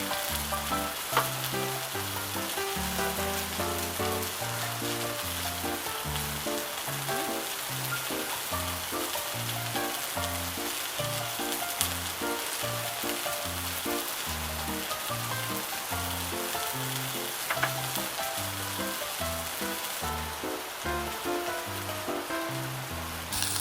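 Chives and pancake batter ingredients stir-fried in a pan at a rainy valley campsite, with a loud continuous sizzle and crackle running throughout under rhythmic tonal pulses, no speech.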